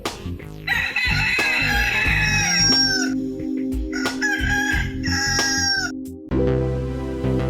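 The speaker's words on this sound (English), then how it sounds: "Let's cue the rooster and get this show started." A rooster crows loudly and close by, two long drawn-out cock-a-doodle-doo calls in a row, with clucking and a brief pause between them, and a musical backing running underneath.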